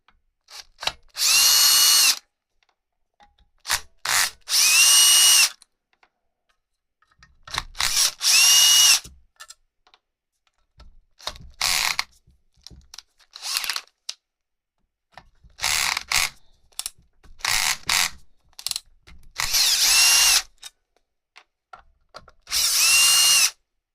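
A power driver spins screws out of the housing of a VW e-Golf electrical module, loud whirring bursts of a second or two each, repeated about ten times with short quiet gaps, close up and without talk.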